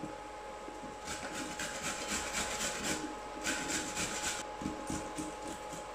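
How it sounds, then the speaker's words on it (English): An ingredient is rubbed against a grater for a hot sauce condiment, making faint, rhythmic rasping strokes in short repeated bursts with no talk. "So you can grate them."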